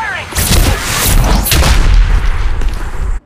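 Heavy automatic gunfire and booming weapon shots from the mobile shooter Apex Legends Mobile, loud and dense throughout with barely any pause, with faint talk mixed in underneath.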